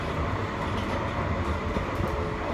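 An electric tram in Edinburgh rolls past on rails toward Edinburgh Airport, a steady train-like rumble of wheels, a broad continuous roar with no voices.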